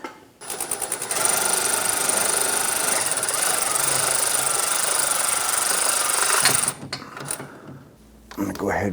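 Bolts on an upstream O2 sensor of a 2011–2021 Jeep Grand Cherokee 3.6L V6 are driven with a power tool, a steady close whirring buzz that runs for several seconds and then stops.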